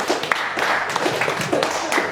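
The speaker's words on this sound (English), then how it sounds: "Angus Gordon, everyone, give him a round of applause" A comedy club crowd at a Brisbane West End show claps for a comedian, with a steady patter of applause at moderate distance and a few sharper individual claps.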